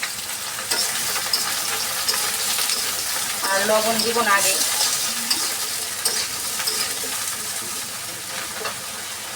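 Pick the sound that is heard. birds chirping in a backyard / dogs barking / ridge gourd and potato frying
ridge gourd and potato frying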